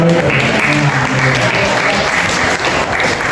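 Loud, dense audience applause fills a hall during an Indonesian organization talk show, steady throughout with faint voices beneath.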